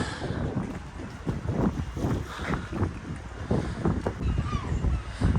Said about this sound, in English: the stiff wind that's blowing again from the west at Bridlington